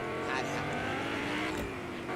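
Vehicles drive and rev in Fortnite's casual mode, a steady, dense engine roar that continues without a break for a couple of seconds.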